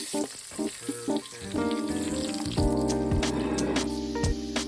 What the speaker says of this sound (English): while you're frying the next batch